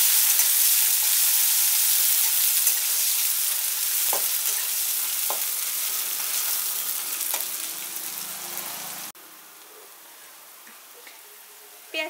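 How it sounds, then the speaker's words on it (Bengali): Chopped onion frying in a pan for a raw jackfruit kofta curry, a steady loud sizzle with occasional stirring clicks that drops to a quieter hiss near the end. "এবারে দিচ্ছি এর মধ্যে কুচানো পেঁয়াজটা। পেঁয়াজটাকে একটু ফ্রাই করে নিচ্ছি।"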